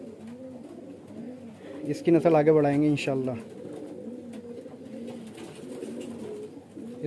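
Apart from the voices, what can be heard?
pigeons cooing, medium-sized highflyer pigeon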